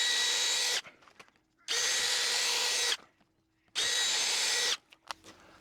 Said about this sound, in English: I'm going to countersink these so they're sitting just below the surface